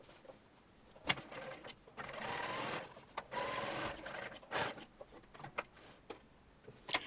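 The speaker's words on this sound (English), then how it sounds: "I am machining across at the waistline within the seam allowance to hold the pocket in place." A sewing machine stitches across a dress waistline to hold a pocket in place, running in short close bursts of rapid mechanical chatter separated by sharp clicks and pauses.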